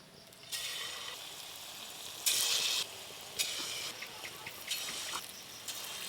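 Phuluri fritters sizzle in hot oil in a wok during an evening of cooking, a bright crackling hiss that swells as batter drops in, with bursts of louder spitting partway through.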